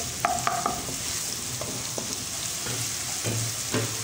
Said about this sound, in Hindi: प्याज आपने स्मॉल साइज ही लेना है, इसको अच्छे तरीके से लहसुन अदरक के साथ ही हम भून लेंगे।